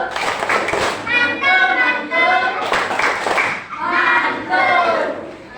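Elementary schoolchildren in an Indonesian classroom perform the 'tepuk mantul' clapping chant, their voices shouting the rhythm together in loud unison bursts over scattered claps.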